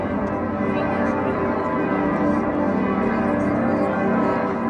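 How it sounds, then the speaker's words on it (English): The bells of Cologne Cathedral ring loudly in a dense, continuous peal of overlapping strikes and sustained ringing tones, heard close at street level outside the cathedral for several seconds. "the bells began to chime, and they were loud."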